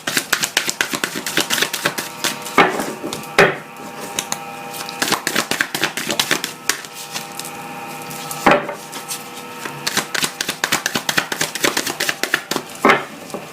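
Tarot cards being cut and shuffled by hand, giving a run of crisp, irregular slaps and riffling clicks close up, with a few sharper card snaps standing out, and no talking.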